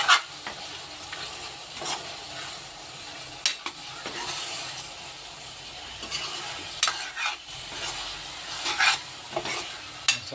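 Chicken curry masala stirred in a pan makes a steady sizzle with repeated scraping strokes and occasional clinks of the spoon, close and continuous throughout, with no talking.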